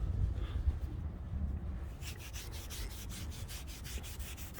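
Masking tape residue being scrubbed off a sailboat hull, a steady close rubbing that turns into a quick run of even, rhythmic scrubbing strokes with no talking.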